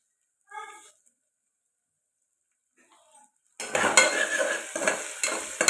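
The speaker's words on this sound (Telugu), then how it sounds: "ఇలా అల్లం వెల్లుల్లి పేస్ట్ వేసుకుంటే ఇంకా టేస్ట్ చాలా బాగుంటుంది ఇది కూడా పచ్చివాసన పోయేదాకా ఫ్రై చేసుకుందాం" Ginger-garlic paste frying in a pan for tomato dal, silence with a short faint clink at first, then a sudden loud spell of sizzling and spatula scraping that fills the last two seconds.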